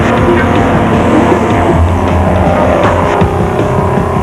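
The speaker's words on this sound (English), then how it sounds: "The Land Cruiser ploughed its way through thick mud, with Corbett and Moore following" Toyota Land Cruiser off-road race truck ploughing through thick mud, its engine roaring loud and steady throughout with a dense, continuous drone and some rough surging.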